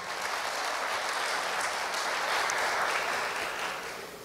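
Sustained audience applause at a recitation contest during a cultural festival, a broad, even wash of clapping that swells slightly midway and fades a little at the end.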